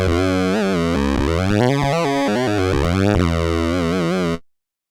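Pulse-wave oscillator on a CorOS mono synth, playing a bright, buzzy harmonic-rich tone that shifts pitch through a short sequence of notes, sustained and loud before cutting off abruptly.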